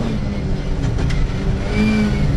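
Rally car engine at the 2004 Disznókő Rallye, revving hard and climbing in pitch as it accelerates along the stage, loud and close with a steady roar throughout.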